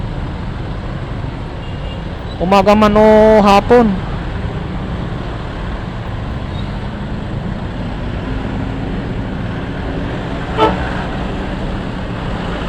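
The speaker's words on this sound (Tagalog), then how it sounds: "sobrang traffic na, grabe" Street traffic after a typhoon: a steady rumble of road noise, with a vehicle horn blaring in a quick series of toots near the start and one short honk later, while someone talks over it.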